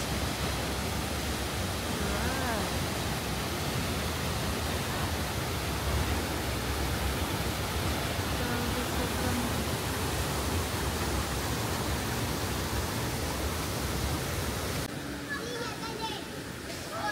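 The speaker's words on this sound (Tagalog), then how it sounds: "Welcome to Tuwasan Falls." Tuwasan Falls on Camiguin Island pours down in a loud, steady broadband roar of falling water that fills the whole scene. It fades slightly near the end, and voices talk faintly beneath it.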